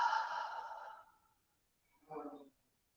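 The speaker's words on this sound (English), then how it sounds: "So let's take a nice deep breath." A slow, deep breath drawn in and let out as a soft sigh, followed after a short pause by a second, briefer exhale, close and quiet with no talking.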